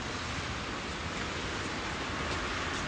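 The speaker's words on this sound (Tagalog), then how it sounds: "Mukhang maghapon ang ulan natin for today." Rain falling steadily on a Sunday, a soft, even hiss of drops with no breaks, fairly quiet and heard on its own without talk.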